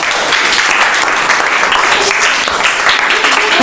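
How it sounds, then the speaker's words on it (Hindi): Classroom applause from students at a coaching-class general knowledge quiz, a dense steady clatter of many hands clapping, close and loud throughout, with faint voices mixed in. "ताली बजा दीजिए।"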